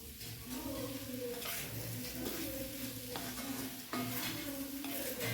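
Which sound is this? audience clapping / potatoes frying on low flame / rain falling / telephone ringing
potatoes frying on low flame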